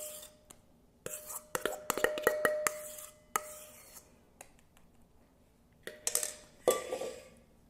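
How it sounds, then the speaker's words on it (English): A spatula scrapes fruit pizza topping out of a bowl in a home kitchen, with short, close rasping strokes in quick bursts separated by quiet gaps, plus a faint tonal hum. "So just scrape it all out of the bowl, put it on the middle of your pizza."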